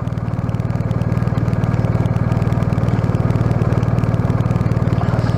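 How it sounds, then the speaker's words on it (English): A twin-cylinder motorcycle engine idles steadily up close, a low rhythmic thrumming pulse with no speech over it. "It may be a twin, but it spins freely like a multi-cylinder motorcycle engine."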